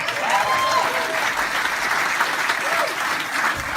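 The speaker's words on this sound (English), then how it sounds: "How about a big round of applause for our host," A comedy show audience applauds its host with loud, dense, steady clapping that holds at full strength without a break, plus a few whoops and whistles rising above it.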